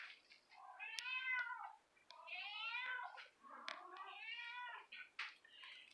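Several small kittens from a young litter meow in repeated high, rising and falling calls, close and fairly loud, overlapping each other over about six seconds with brief gaps and no talking.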